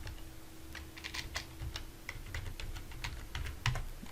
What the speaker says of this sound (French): vous allez m'excuser pour la saisie. J'ai un nouveau clavier là.